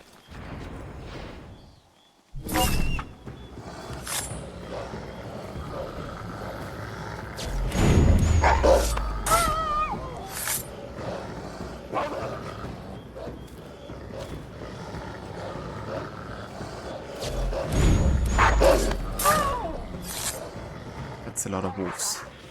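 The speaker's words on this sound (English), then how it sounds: "So many wolves here." Wolves snarl and growl in Assassin's Creed III, with bursts of aggressive barking and roaring that swell loud twice, mixed with combat noises and talking.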